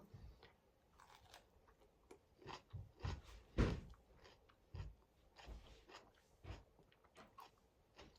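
Crisp, close chewing and biting of a slightly firm, underripe Spanish apricot, repeated bites and crunchy chews in an irregular rhythm with no talking.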